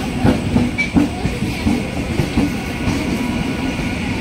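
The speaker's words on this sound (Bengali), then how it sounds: "সামনে ট্রেন যাচ্ছে।" A train rolls past Prinsep Ghat station in Kolkata, its wheels clacking in an uneven rhythm over a continuous rumble, fairly close and heard on its own.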